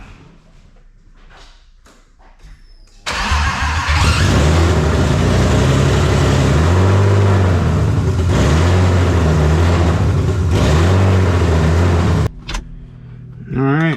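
A BMW E30 with a swapped-in M50 engine, nothing hooked up yet, cranks and fires for its first start, then settles into a loud, steady rumbling idle with a few blips before cutting off, while someone speaks briefly.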